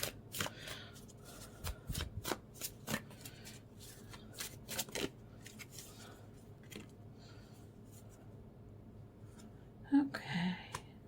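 A deck of cards for a card reading is shuffled close up in several quick riffling bursts with soft taps and pauses between them.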